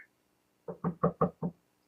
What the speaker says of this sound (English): I knocked on the first door.